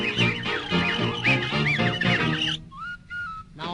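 A piccolo imitates chirping bird tweets in a 1929 novelty song, with warbling whistles over a full band, then ending in a few bare, high piccolo tweets.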